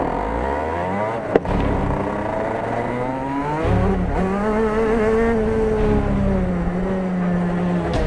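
Race car lapping the Daytona circuit, engine note sustained and rising through the gears with a brief sharp shift break, heard from inside or on board at moderate level.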